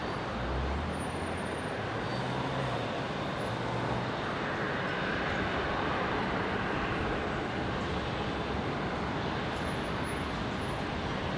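Qatar Airways flight 898 from Doha on approach to Brisbane airport, a steady broadband jet roar that fills the clip at an even, fairly distant level, with no talk.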